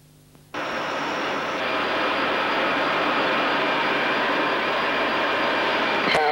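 Boeing E-3 jet engines at takeoff: a quiet hum abruptly gives way to a loud, steady roar that holds and builds slightly, close and continuous, with a short sharp tone near the end.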